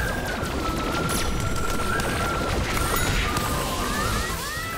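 Dense, continuous gunfire in Plants vs. Zombies Garden Warfare 2 crackles throughout, rapid bursts and impacts piling on top of each other at high volume.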